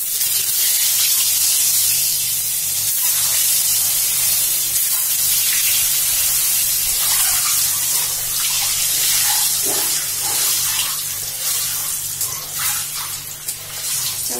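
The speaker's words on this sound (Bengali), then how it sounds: "এবার ডিমটা ভেজে নেব" An egg fries in hot oil with a pinch of turmeric in a wok, giving a loud, continuous, close crackling sizzle that spits and hisses unbroken throughout.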